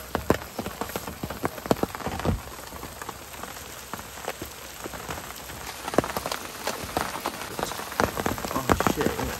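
Big raindrops from a heavy storm hammer down in a steady drumming wash, with many sharp close impacts spread evenly throughout and no voices.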